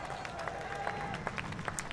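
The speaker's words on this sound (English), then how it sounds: "Big cheer for our Alice Powell." Crowd at a W Series race podium ceremony at Assen, scattered applause and cheering with sharp individual claps, fairly faint and distant, with a voice talking briefly.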